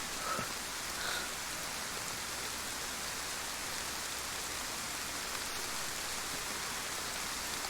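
Steady rain falls in the DayZ video game on the DeerIsle map, an even, continuous hiss of drops that holds level throughout with no voices over it.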